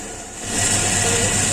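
A homemade winnowing machine cleaning buckwheat gives a steady mechanical whirring rumble that swells in after a quieter moment and continues, close and fairly loud, with no talk.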